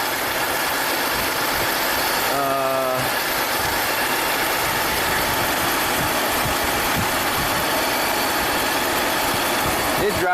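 1995 Buick Riviera supercharged V6 idling with injector number 4 unplugged, a steady loud mid-pitched engine drone with a rough, knocking pulse throughout. Someone speaks briefly over it.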